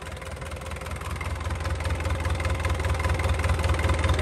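Used Isuzu truck with a 98 mm bore Isuzu C330 diesel engine idling during a start test, a steady, loud, close low rumble with an even mechanical throb that grows slightly louder, no talking.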